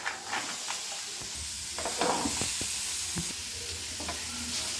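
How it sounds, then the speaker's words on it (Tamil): Raw papaya poriyal stir-fried with spices in a pan over low gas gives a steady soft sizzle, with scattered spatula scrapes and stirring taps close by, and no talking. "கேஸ் வந்து ஸ்லோவாக வச்சுட்டு நல்லா மிக்ஸ் பண்ணி விடலாங்க."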